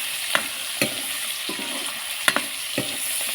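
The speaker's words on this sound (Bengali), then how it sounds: "আমি মাছটা একটু ভেজে নেব। দেখো চিংড়ি মাছটা" Prawns frying in a pan, a soft steady sizzle with several distinct scrapes and taps of a spatula stirring at irregular intervals, close and fairly quiet, no talking.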